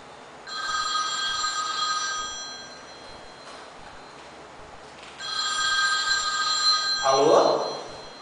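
A telephone rings in two long bursts of bright, steady electronic trilling with a pause between, followed by a brief voice at the end.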